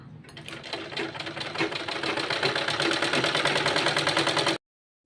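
A sewing machine stitches a child's kurta, running at a fast, steady, close rattle for about four and a half seconds and then stopping abruptly.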